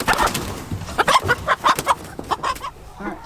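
A chicken clucks and squawks in quick agitated bursts while being caught and wrangled, close and fairly loud, with rustling and scuffling around it and no talk.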